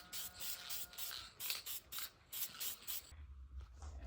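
An aerosol can sprays coating onto a Cadillac Northstar head gasket in a series of short hissing bursts, evenly spaced and close, ending in a brief pause and a faint scrape.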